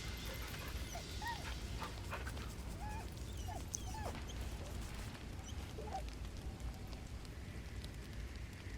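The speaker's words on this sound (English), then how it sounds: "Always pet the pupper." Scratch, a dog in the video game Baldur's Gate 3, gives soft whimpers and yips while being petted, quiet and intermittent over a constant rain-like game ambience.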